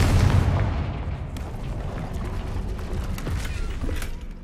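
The Confringo spell from the Hogwarts Legacy video game blasts with a loud, booming explosive burst, followed by a sustained rumbling roar and low crackling debris noise.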